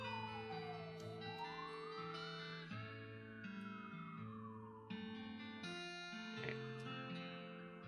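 A siren in the video game West of Loathing wails up and down over looping electronic music, a long rising and falling tone at moderate loudness.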